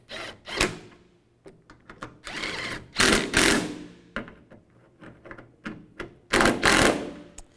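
Tailgate bolts being tightened on a 2007-2013 Chevrolet Silverado 1500, heard as several sharp bursts of a power driver separated by quieter clicks and handling of metal parts, with no talk.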